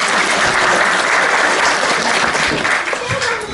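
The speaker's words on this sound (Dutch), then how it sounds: "Thomas, applaus voor Thomas!" An audience at a children's show breaks into loud, dense applause for a performer named Thomas, steady clapping that fades slightly at the end.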